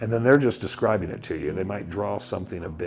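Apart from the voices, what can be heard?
No everyday noises stand out.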